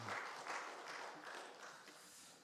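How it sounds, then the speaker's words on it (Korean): A church congregation applauds during a service, a steady, soft wash of clapping that stays faint and even for a couple of seconds with no voices over it. "우리 한 번 더 뜨겁게 박수해 주시기 바랍니다."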